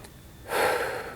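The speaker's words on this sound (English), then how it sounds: "I was breathing in through my nose and out through my mouth" A deep breath drawn in through the nose during a breathing exercise, a single rising airy inhale that starts abruptly after a short pause and lasts about half a second, close and clear, with no talking.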